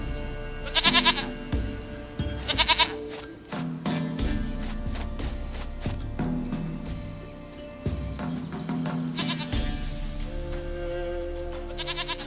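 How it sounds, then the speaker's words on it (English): A goat bleats in The Witcher 3 Next Gen, several short, wavering bleats repeating in bursts over a soft game music bed, fairly close and with no talk. "Goat of mine, dearest, sweetest goat."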